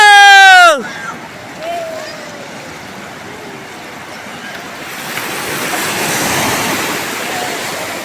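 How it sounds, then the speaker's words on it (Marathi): A tonal beep cuts off, then a continuous wash of ocean surf breaking on the shore at Ganpatipule, Konkan, and wind roars steadily, swelling louder near the end. "समुद्रात आणि मित्रांनो पाण्याच्या लाटा येताना"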